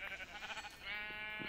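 A sheep in the Minecraft video game bleats in a short, wavering cry, close and fairly quiet, standing alone without talk.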